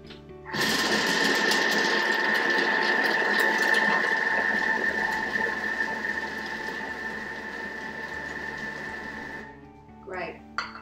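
Kitchen machine chopping streaky bacon on speed 4, a loud, steady high whirring buzz running for about nine seconds before cutting off abruptly, followed by a brief clatter.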